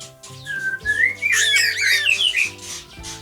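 Two young songbirds chirp and squeak in rising, wavering whistles, close by and fairly loud, with a low steady hum underneath.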